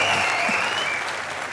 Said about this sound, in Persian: الان مهمونای عزیزمون تشویق میکنن صداشونو بشنوید